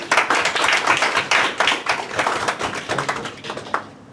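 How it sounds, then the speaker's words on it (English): Audience at a lecture on Greek military and political history breaks into a round of applause, dense overlapping clapping that stays loud for about four seconds before dying away. "they both deserve a round of applause for their efforts"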